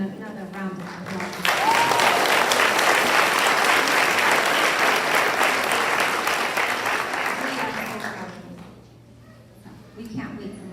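A high school senior awards ceremony audience at Polk State College breaks into loud, dense applause that holds steady for several seconds, then tapers off to near silence with a small burst of sound at the close.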